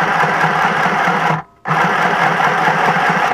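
A mini sewing machine runs at a steady fast whir, stops briefly for a moment of silence, then starts again, loud and close with no talking.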